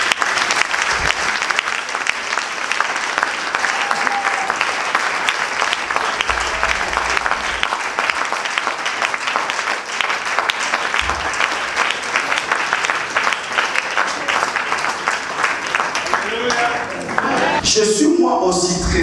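A church congregation applauding and cheering at a service, sustained loud clapping from a large crowd throughout, with voices calling out and a brief voice near the end.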